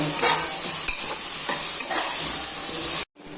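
Chopped onions and capsicum fry and sizzle in a pan with a steady bright hiss, stirred now and then with soft scraping strokes, all without talk until a sudden cut near the end.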